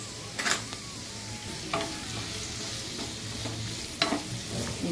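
Snake gourd and grated coconut sauté in a pan, a steady soft sizzle under a few clear scrapes and knocks of a spoon against the metal, close and alone with no talking.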